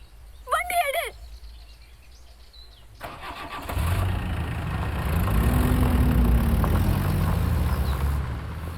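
Birds chirp briefly before a car engine cranks and catches, then settles into a steady, rising idle that stays moderately loud until the end.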